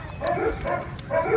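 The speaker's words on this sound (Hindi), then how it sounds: "कुत्ते भी भौंकने लग पड़े हैं" Dogs bark and yip in short repeated bursts at a horse riding ground, moderately loud and a little distant.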